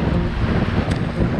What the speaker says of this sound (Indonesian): Waduh, ternyata anginnya kencang banget bos.